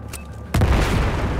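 In the Battlefield 4 video game, a grenade goes off as a single sudden, loud boom after a brief quiet moment, then rumbles on with dense low debris.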